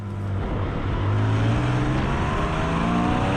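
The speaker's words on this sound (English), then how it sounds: "The high revving nature of this car and the exhaust note that you get from behind your ear" A Porsche Cayman GTS 4.0 sports car's engine revs hard, with a steady, droning exhaust note heard from inside the cabin that climbs slightly in pitch. It is loud and continuous, with no talking.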